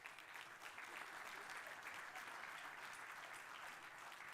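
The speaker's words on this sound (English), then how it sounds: "A warm round of applause," A steady, warm round of applause from a conference audience for the Deputy President of South Africa, continuous dense clapping heard from a distance at a low, even level throughout.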